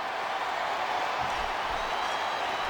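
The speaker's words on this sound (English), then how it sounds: "I love hearing the crowd come alive" Wrestling arena crowd in a video game roars steadily, a dense, continuous wash of cheering and noise filling the space for a few seconds without any clear break.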